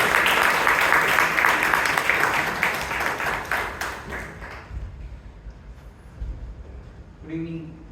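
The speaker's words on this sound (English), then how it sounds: "Can we have a big round of applause for Naveen?" Enthusiastic applause from the audience at a Toastmasters club meeting in Bangalore, loud and sustained for several seconds and then thinning out, followed by brief ringing tones.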